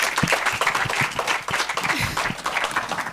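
An audience at a live panel event applauds, a dense, steady round of clapping from many hands that keeps going, fairly close and loud.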